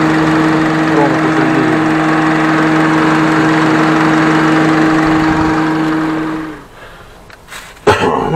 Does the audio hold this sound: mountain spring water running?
no